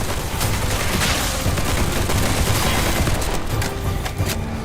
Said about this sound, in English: Keep firing.